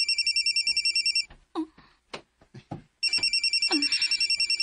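A cellphone rings with a repeating electronic trill in two loud bursts, separated by a stretch where people speak briefly.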